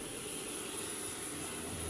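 A CH-53K King Stallion heavy military helicopter gives off a steady, low engine and rotor drone with a high whine on top, moderately loud and unchanging throughout.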